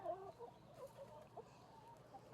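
Chickens at an outdoor chicken farm cluck softly in a string of short, irregular calls, faint and somewhat distant over low background noise.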